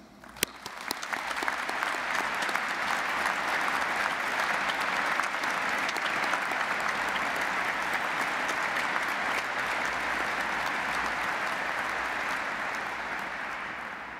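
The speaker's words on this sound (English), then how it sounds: "Let's get this ceremony on the road by applauding our graduands" Audience applause for graduands at the start of a 2014 university graduation ceremony: a broad, steady wash of many hands clapping swells in quickly and holds evenly for over ten seconds, easing slightly near the end, with no voices over it.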